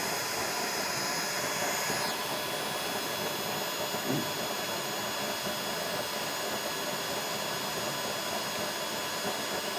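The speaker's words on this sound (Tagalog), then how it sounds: "Direktang-direkta po ang tama ng apoy, mga boss, sa kawali." Roaring flame of an oil-fuelled anti-overflow stove burner firing straight up under a wok, a steady loud broadband rush holding constant throughout with no break and no talk.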